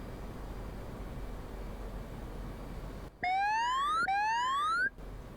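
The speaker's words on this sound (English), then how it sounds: "that beeping, if you were wondering, is just saying that we're getting low in altitude" Low-altitude warning tones from a fighter jet flight game during a landing approach: two loud, rising electronic sweeps with bright harmonics sound back to back over a steady background hiss, then cut off abruptly.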